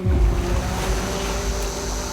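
Sea waves wash onto the shore of a desert island, a steady, loud rush of surf and churning water with wind buffeting the microphone, continuous and close.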